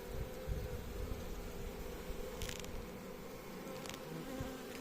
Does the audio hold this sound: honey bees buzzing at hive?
yes